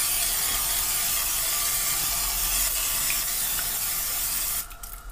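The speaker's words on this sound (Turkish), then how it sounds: "Biraz da şöyle yağlıyorum." Steady, loud hiss of cooking oil sprayed into a heated pan, continuous and close, cutting off abruptly near the end.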